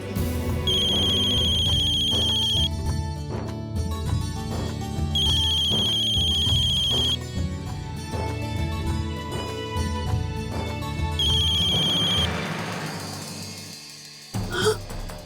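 A phone rings in three repeated electronic bursts over loud background music, the rings separated by short gaps, in a scene from the Hindi TV drama Amrit Manthan.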